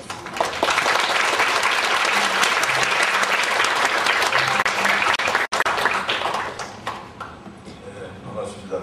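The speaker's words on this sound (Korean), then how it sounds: "큰 박수로 모시겠습니다." Audience applause welcoming a speaker at a Korean conference, dense continuous clapping from a large crowd for most of the span, then thinning out toward the end.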